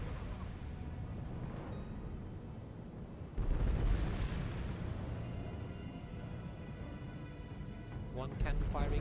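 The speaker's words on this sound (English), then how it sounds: "We've got 2 cannons firing now instead of 1." Cannons booming in a Medieval 2 Total War battle, with a heavy low blast around the middle and another near the end, set among rumbling battlefield noise and someone speaking.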